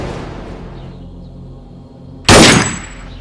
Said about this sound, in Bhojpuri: अरे ये तो गोली चला देले